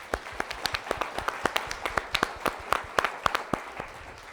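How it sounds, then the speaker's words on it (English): Two hosts clap close into their microphones, a steady run of sharp, loud claps with a few doubled hits, no talking over them. "So that's why we clapped during that as well, which you probably hear on our microphones."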